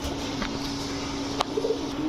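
Young roller pigeon chicks coo softly and briefly, a few faint calls rising over a steady background hum with no talking.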